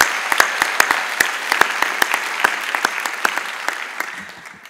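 A commencement ceremony audience claps steadily for a keynote speaker, with distinct individual hand claps standing out over a continuous bed of applause that gradually fades.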